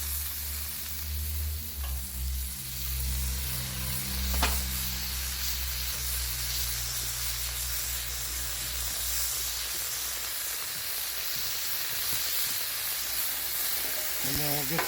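Butter sizzles and hisses steadily on a hot Blackstone flat-top griddle, a loud, continuous frying crackle with a few faint clicks of a utensil, and no one speaking over it.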